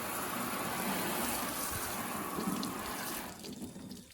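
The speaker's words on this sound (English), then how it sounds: "Like, that water is just completely coming off." Water sprays steadily onto a ceramic-coated truck, a close, continuous hissing rush that tapers off near the end.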